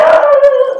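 A dog howls alone in one sustained, loud, tonal wail that slowly falls in pitch and fades at the end.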